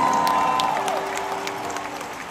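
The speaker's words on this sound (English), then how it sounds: "Give yourselves a round of applause" Concert audience applauding, a steady wash of clapping and crowd noise at moderate distance with a sustained tone from the stage underneath, holding level throughout.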